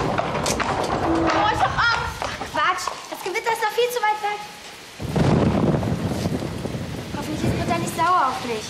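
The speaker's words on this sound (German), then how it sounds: "Das Gewitter ist noch viel zu weit weg." Thunder rumbles and rain falls through a stormy night scene in a German children's audio drama, a steady low wash rising sharply midway, heard beneath children's voices talking throughout.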